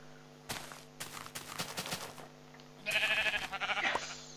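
Minecraft Pocket Edition sheep bleat in a short wavering burst near the end, after a run of crunchy footstep taps, all over a soft sustained background music tone.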